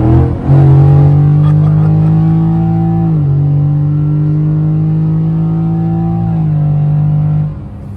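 A pickup truck arrives at a riverside landing after a canoe trip, its engine revving loudly and close, then holding a steady drone with a brief dip around three seconds before cutting off near the end.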